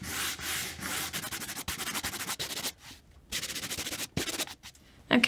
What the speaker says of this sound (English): if I do a little bit more sanding